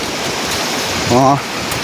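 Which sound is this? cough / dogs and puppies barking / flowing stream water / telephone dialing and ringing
flowing stream water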